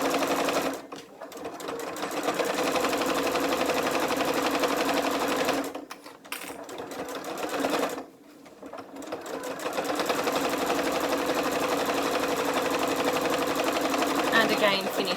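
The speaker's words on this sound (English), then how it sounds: "we're simply going to start on the opposite side, again with a reverse stitch, sewing along that raw edge" Domestic sewing machine running a 1/4 inch seam along a raw fabric edge with reverse stitches at the ends: a steady, close mechanical whir broken by two short pauses, with someone talking quietly underneath.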